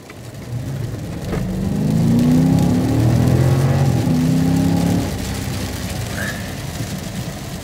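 A 2015 all-wheel-drive V8 Dodge Charger Pursuit engine climbs to a loud, sustained rev that peaks in the middle, then drops back to a steady idle-like hum.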